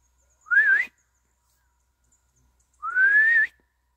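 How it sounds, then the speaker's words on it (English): Two rising whistled notes by a person in the woods, each under a second, separated by a long quiet pause, clear and close. "That's about as good as my whistle gets."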